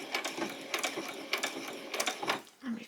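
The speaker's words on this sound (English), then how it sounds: "Just a few backward stitches." A sewing machine runs a few quick backward stitches on a basic dress, with a close rhythmic mechanical chatter in short bursts.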